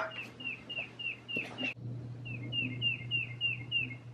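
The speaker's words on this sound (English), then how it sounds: "I hear birds." Small birds chirp outdoors in a series of short, repeated high tweets, a burst early on and a steady run later, moderately distant over a low background hum, with no talking.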